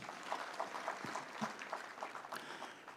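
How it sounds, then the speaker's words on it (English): Applause from the audience at a university graduation ceremony, faint and somewhat distant, with scattered claps and a low murmur throughout the short stretch. "Let's give them another round of applause."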